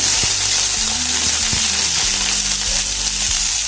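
Onion hits hot oil for a Bengali kalo jeere bhorta after crisped chillies are pushed aside, producing a loud, dense, continuous sizzle with a few low clunks from the pan. No speech accompanies it.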